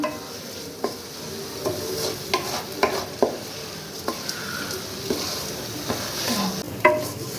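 Spices and rice for vegetarian khichuri are stir-fried in a pan, a soft sizzle punctuated by regular spatula scrapes and taps about once a second, close and unaccompanied by talk.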